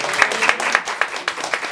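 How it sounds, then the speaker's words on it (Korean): Short burst of congregation applause in a church service, with a steady patter of claps at a moderate distance lasting under two seconds. "우리 살아계신 주님께 다시 뜨거운 영광의 박수 드립니다"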